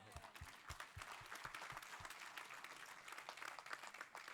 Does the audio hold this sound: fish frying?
no